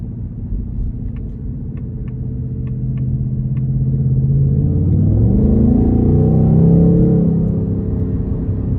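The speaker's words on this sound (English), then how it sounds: "I have everything sported out, from the steering to the drive mode, the exhaust sound, everything's just set to sport" A 2024 Ford Mustang GT with its 5.0 V8 engine and exhaust in sport mode gives a deep, loud rumble that swells as the car accelerates from inside the cabin, with a few faint clicks early on.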